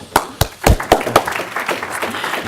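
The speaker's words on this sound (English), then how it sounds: "If we can please have a round of applause." An event audience applauds a speaker being called up, with several loud, close, distinct claps at the start blending into a lighter, scattered patter of hands.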